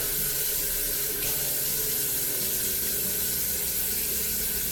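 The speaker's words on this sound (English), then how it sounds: "Guess I'm gonna wanna use a little water." Water runs steadily from a kitchen tap while a mixing bowl is rinsed and wiped out, a continuous, fairly loud splashing rush with no speech.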